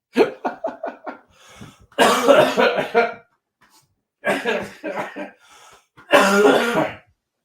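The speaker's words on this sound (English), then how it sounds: "laughing makes me cough at the moment." A man coughing and clearing his throat in repeated harsh fits, a rapid string of short hacks followed by longer rasping bursts with silent gaps between them, close and loud.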